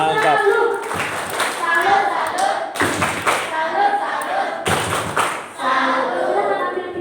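Children at a Catholic elementary-school student gathering clap their hands together in several loud bursts of rhythmic applause, with thumping and children's voices mixed in and brief pauses between the rounds.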